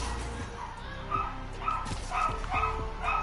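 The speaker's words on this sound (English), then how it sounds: "those dogs are going nuts" Several dogs bark and yip in a video game, a handful of sharp, fairly close barks in an irregular burst over a steady low background hum.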